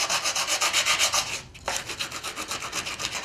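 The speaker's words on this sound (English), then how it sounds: "Piece of wood, old scrap of the wood, piece of sandpaper." Sandpaper rubs back and forth over a scrap of old pallet wood in quick, even strokes, a close, rhythmic scratchy rasp with one short pause midway.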